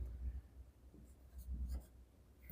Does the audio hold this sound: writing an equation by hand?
yes